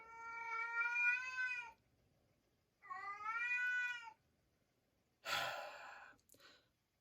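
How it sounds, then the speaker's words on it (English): A domestic cat meows three times in a home setting, two long drawn-out harmonic cries followed by a shorter, breathier one, close and clear with quiet pauses between them. "Cat's here."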